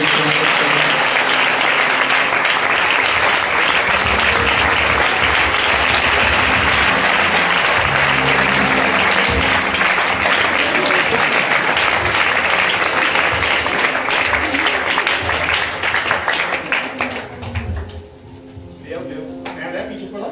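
Audience in a Hindi-speaking church service applauds the pastor, a loud continuous wash of clapping that fills most of the stretch before fading near the end.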